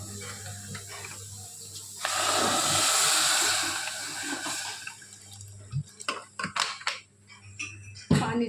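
Water is poured into a cooking pot of lentils with salt and turmeric, set to boil for mudi ghonto: a steady rushing pour lasting about three seconds, followed by scattered clanks and knocks of the pot and lid.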